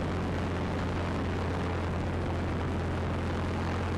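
A Robinson R22 helicopter hovering and setting down, a loud, steady, close engine and rotor drone with a constant low throbbing hum and broad rushing noise, unbroken throughout.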